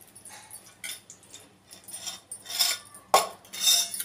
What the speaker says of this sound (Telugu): ఇప్పుడు మూకుడు పెట్టుకొని 2 స్పూన్ల ఆయిల్ వేసుకోవాలి.